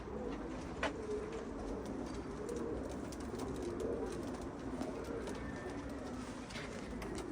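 Pigeons coo softly in a low, repeated murmur against a quiet, steady background hiss, with no talking.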